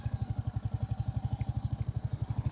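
A Royal Enfield Hunter motorcycle engine, new and still running in, thumps at a fast, even idle-like rhythm, close and loud with no other sounds.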